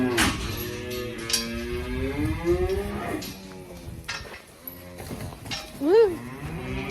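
Cows in a cow barn moo repeatedly, several loud drawn-out lows rising and falling over each other, close by, with one sharp bellow near the end and no talking.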